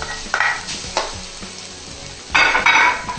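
Adobo fried rice made from leftover cold rice being stir-fried in a pan, loud crackling sizzle that swells in bursts with each toss and scrape of the spatula.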